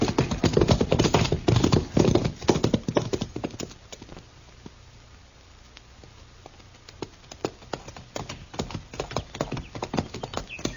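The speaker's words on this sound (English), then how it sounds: "Come on, we'll ride back to Stanley's ranch." Horses' hooves clip-clop in a steady, close rhythm as riders head off in an old Western radio drama, the beat fading briefly mid-way before picking back up, with no voices over it.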